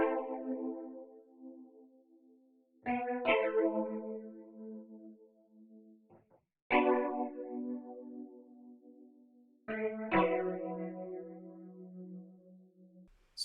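Sustained MIDI organ chords with no effects, dry and clean, changing every few seconds with sharp attacks and brief gaps between them, no voices.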